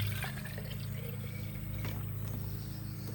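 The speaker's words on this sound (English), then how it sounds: "I'm going to fill that jar about halfway full with some water" Water poured into a jar holding a tomato, a continuous close gurgling pour over a steady low hum, lasting a few seconds with no talking.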